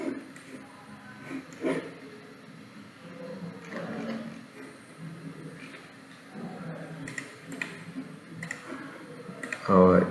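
Computer mouse clicks while copying coordinates in ArcGIS, a few faint sharp clicks scattered among quiet room noise and low talk.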